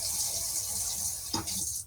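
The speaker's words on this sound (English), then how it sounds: "I am gonna add a little more water to this." Tap water trickles into a bowl while water is added to loukoumades dough for Greek donut balls, with a soft steady pour and a brief splash near the end, no voices.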